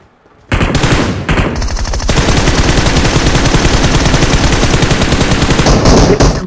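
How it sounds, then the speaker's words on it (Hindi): Loud, close automatic gunfire from PUBG Mobile rattles in sustained rapid bursts after a short quiet start, a continuous stream of shots with brief gaps, no voices heard. "भाई मैंने गोली चलाई थी मैंने तुक्के में गोली चलाई"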